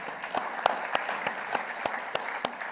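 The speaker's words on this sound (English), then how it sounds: "another round of applause for our special guest tonight" Evening audience on the Gold Coast applauding a special guest, a fairly faint, steady patter of many hands with a few sharper individual claps standing out at a regular pace.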